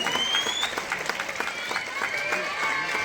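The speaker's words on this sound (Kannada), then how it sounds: "ಅವ್ರಿಗೆ ಜೋರ್ ಚಪ್ಪಾಳೆ ತಟ್ರಿ ಎಲ್ಲ ಅಂಗಡಿಯವ್ರು" Crowd clapping for village shopkeepers at an anti-tobacco awareness rally, a dense patter of applause heard at moderate distance with voices mixed in.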